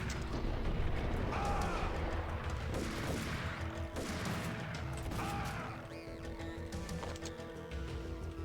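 Gunfire in the Max Payne video game inside an inner courtyard, several sharp loud shots and crashing impacts over the first six seconds, with quieter rumbling afterward.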